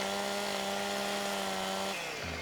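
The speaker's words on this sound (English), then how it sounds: "you run down the tree with the chainsaw, and it totally clears everything off" A chainsaw cuts down a tree in Farming Simulator 15, a steady close buzzing drone that holds level before dropping in pitch near the end.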